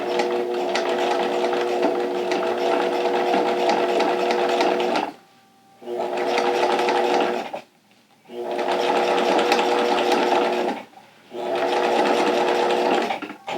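A sewing machine stitches a two-layer vinyl pouch in four long, steady whirring runs of rapid needle strokes, separated by short pauses, loud and close with no talking.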